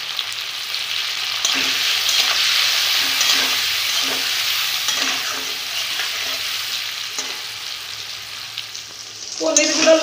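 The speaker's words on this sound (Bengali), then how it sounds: "বন্ধুরা তেল গরম হয়ে গেছে, পনিরগুলো ভেজে নেব।" Paneer pieces fry in hot oil with a steady, close sizzle and hiss, dotted with soft clinks of a utensil stirring, and a louder burst of spattering near the end.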